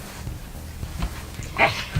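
A Samoyed puppy whimpers briefly, with a thin high whine rising near the end over a soft low background rumble; a single short yelp closes the moment, close to the listener.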